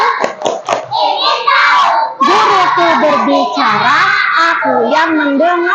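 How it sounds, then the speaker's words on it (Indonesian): Children chant and clap together in a rhythmic Indonesian classroom concentration clap, voices loud and close with claps in a patterned beat under the chanting. "kita tepuk konsentrasi dulu"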